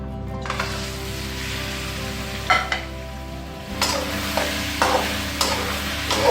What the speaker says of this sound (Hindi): सबसे पहले हम चिकन ऐड करेंगे।